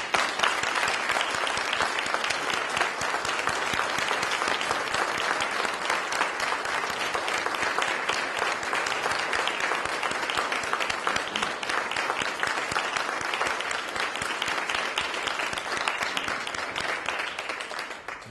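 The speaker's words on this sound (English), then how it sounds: "Please join me with one final round of applause for our distinguished guest, the volunteers," An audience at a local officers' recognition ceremony gives a long, steady round of applause for guests, volunteers and honored officers, dense clapping holding evenly loud throughout without speech.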